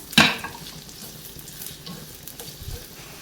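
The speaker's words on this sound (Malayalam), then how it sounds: "ഇത് നമുക്കൊന്ന് ഇളക്കി വഴറ്റിയെടുത്തുകൊണ്ട് വരാം." Chopped onions stirred and sautéed in a pan for a tomato chutney, opening with a sharp scrape of the spoon followed by a steady, soft frying sizzle with light stirring clinks, no voices.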